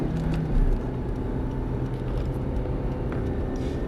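A car accelerates steadily on a test track, its engine a broad, constant drone heard from inside or close by, with no talk over it.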